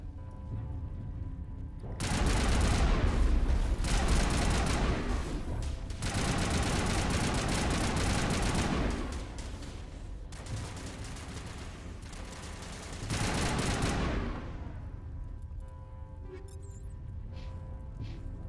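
Sustained bursts of gunfire in the video game Mass Effect, two long dense volleys of rapid shots with a shorter third burst, loud and continuous, separated by lulls of lingering noise, no voices.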